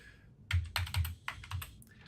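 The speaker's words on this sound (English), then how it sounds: "I'm just going to throw in some gibberish there." Gibberish is typed on a computer keyboard in quick bursts of close, crisp keystrokes, several clusters of clicks separated by short pauses.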